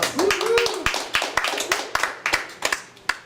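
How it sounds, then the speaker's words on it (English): A small audience at a presentation gives scattered, sparse clapping: individual sharp claps spaced irregularly rather than a full ovation, with a brief voice audible near the start. "you deserve a round of applause for that"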